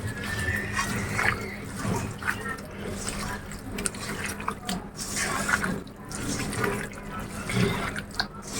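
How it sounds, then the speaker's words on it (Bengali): Coconut water splashes and trickles from a green coconut onto spiced duck meat in a bowl, a soft continuous liquid pour with drips, close and fairly quiet. "প্রথমে আমি অর্ধেকটা ডাবের পানি দিব"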